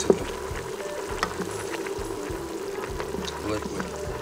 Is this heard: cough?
no